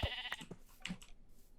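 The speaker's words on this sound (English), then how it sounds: "I don't think I'm going to come back down here to shear these sheep right now." A sheep in a video game gives a couple of short, close bleats in quick succession, with no talking over them.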